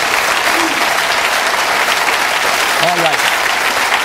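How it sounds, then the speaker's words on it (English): Studio audience applause at a political talk show, a steady dense wash of clapping that fills the whole moment, loud and continuous with a faint voice or cheer briefly rising near the end. "Give them a round of applause."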